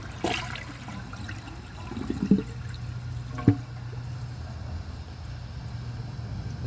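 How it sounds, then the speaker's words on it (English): A 2012 Toto Drake toilet flushing on original parts without clearing properly: a low steady rush of water with a couple of sharp clunks and gurgles partway through, close and alone. "So now let's try a second flush."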